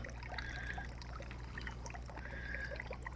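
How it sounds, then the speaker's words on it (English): Water trickles and pours gently into a round fish tank, a faint, steady dribble at close range over a low hum. "putting a little bit of water back in this"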